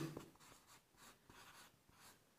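Pen or marker writing on a board during a Class 8 maths lesson on set unions, with quiet scratchy strokes in short bursts and no talk.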